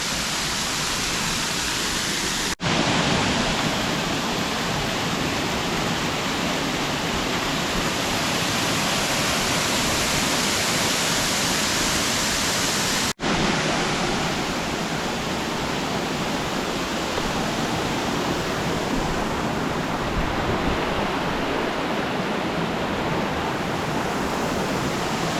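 Mackenzie Falls thunders in a steady, loud, broadband roar of falling water, heard close and continuous throughout with no voices.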